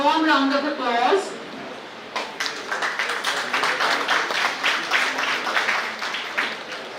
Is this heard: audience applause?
yes